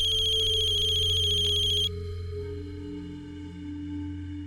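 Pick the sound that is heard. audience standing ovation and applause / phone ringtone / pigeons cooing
phone ringtone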